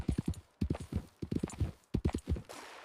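Horse hooves pound in a fast, rhythmic clip-clop, with repeated clusters of loud, close strikes, as a rider flees a plantation through a night forest.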